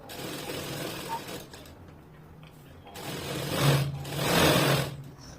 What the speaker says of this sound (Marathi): याप्रमाणे कडेने आपण पूर्ण शिलाई मारून घ्यायची आहे